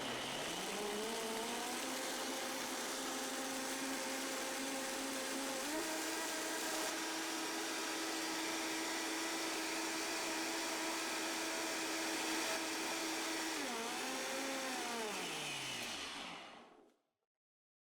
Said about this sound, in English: So you want to blend it as high as you can on whatever blender you have.